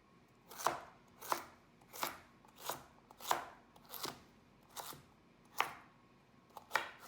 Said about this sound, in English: carrot, just trim it and give it sort of a rough chop